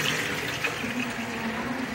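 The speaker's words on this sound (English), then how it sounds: "And water will flow down through each flower pot, through the holes in the flower pot" Water recirculates steadily down through the holes of stacked flower pots into an aquarium filter, making a continuous close trickling and splashing wash with no pauses.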